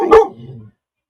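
Dog at home gives a single sharp bark that trails into a brief low whine, close and loud, then silence.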